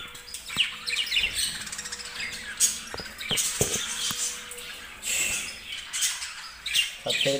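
Long-tailed birds and budgies released into a new colony cage, a busy stream of close sharp squawks and chirps with some wing flutter, continuous and lively.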